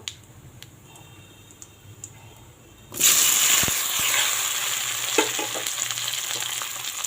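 Boiled, peeled potatoes hitting hot oil seasoned with whole cumin and bay leaf, bursting into a loud sudden sizzle about halfway in, after quieter ticking, with a few scrapes of a spatula over the steady frying.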